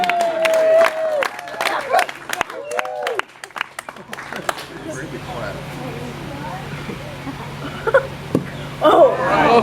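An audience at an alligator wrestling show breaks into scattered clapping and cheering, with a voice speaking over it in the first few seconds before the crowd noise settles into a steady murmur.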